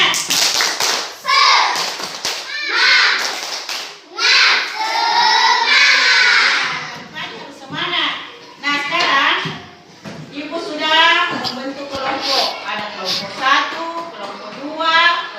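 Classroom children perform the rhythmic 'tepuk semangat' clap chant, bursts of clapping mixed with loud chanting and shouting voices, an adult voice leading between rounds.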